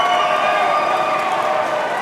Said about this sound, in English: The crowd roars their appreciation for that fight number 1